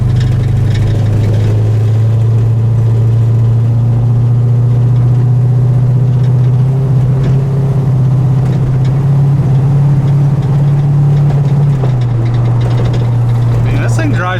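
A car engine drones loudly and steadily while driving, its low pitch rising slightly and then dropping near the end, with a voice talking over it.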